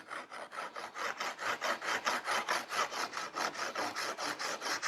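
A hand saw flush-cuts a wood offcut in steady, even back-and-forth strokes, about four per second, each rasping pass loud and close with no voices.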